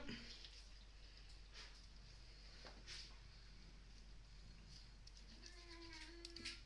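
A house cat meows a few times, close and fairly clear, near the end of the stretch, over a low room hum with light water and handling sounds from a sink earlier on.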